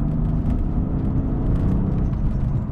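A BMW F80 M3 engine switched into its sharper M1 drive mode, a loud steady growl with a continuous low rumble and rising intake whir from inside the car, with no talk over it.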